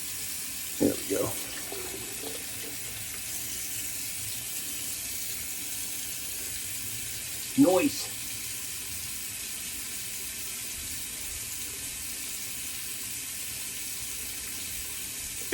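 Cold water runs from a bathroom tap into a sink during a wet shave, a steady hiss that goes on for the whole stretch, with a couple of brief splashes and someone speaking now and then.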